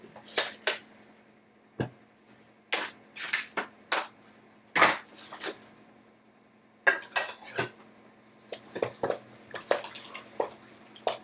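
Brownie batter mixed by hand in a bowl: irregular clinks and scrapes of a utensil against the bowl in bursts, with wet squishing between quieter gaps.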